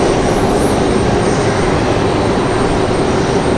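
A Breeze Airways airliner sits at the end of the runway at Raleigh-Durham International Airport, and a steady engine roar fills the air at a constant loud level with no one talking.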